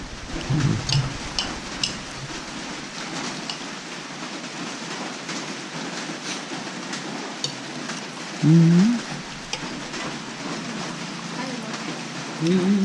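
Steady rain patters continuously on a surface, with a person's voice briefly audible now and then over the downpour.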